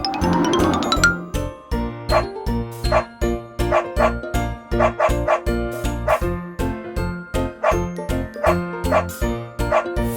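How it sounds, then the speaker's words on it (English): A dog barks repeatedly in a rhythmic pattern over bright, jingly children's music in a farm animals learning song, each bark set into a steady beat. "Dog."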